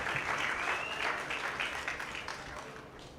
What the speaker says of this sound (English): Darwin Noguera, everybody, give him a round of applause, please.